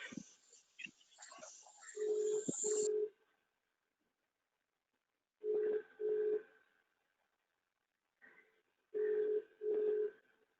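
A phone call rings out unanswered, with repeated paired ringback tones in bursts separated by silence, faint and alone, after some brief indistinct noise at the start.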